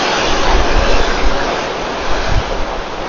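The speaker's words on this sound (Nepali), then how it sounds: "पानीको छालको मात्रै आवाज छ" Water waves wash continuously beside a P&O cruise ship at sea, a loud, even rush of surf mixed with gusts of wind buffeting the microphone, with no one speaking.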